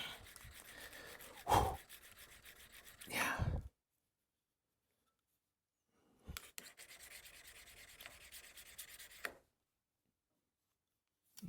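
Curved steel cabinet scraper having its burr rubbed flat, heard as two bursts of scraping friction separated by silence, close and fairly faint, with a sharp click partway through.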